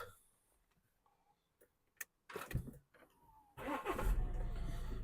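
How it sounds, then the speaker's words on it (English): An Audi A6 engine cranks and catches, then settles into a steady idle; a few clicks and small knocks come first in an otherwise quiet space. "start the car and I'm going to clean the DPF"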